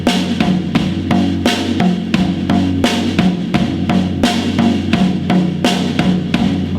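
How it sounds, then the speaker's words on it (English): A drum kit beat with the right hand riding on the ride cymbal, a steady close groove of regular kick and snare hits under a constant shimmering cymbal wash, played alone without talk. "You can just go to the ride cymbal and create a different sound."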